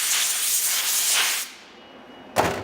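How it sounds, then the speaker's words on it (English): Compressed air blasting debris off engine parts during an engine teardown, a loud close hiss for about a second and a half, then quiet, then another sharp short burst at the end. "So just grab our air. We blow all this stuff off. I know it's loud"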